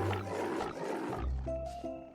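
Leopard in the Mini World video game letting out a deep, rumbling roar that fills the clip, loud and close, with no talk over it.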